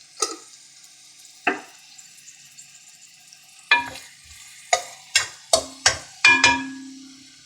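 Salted onions softening in a pot for a black chickpea masala are stirred with a spoon: quiet gaps broken by sharp scraping strokes, sparse at first and then a quick run of five or six close together.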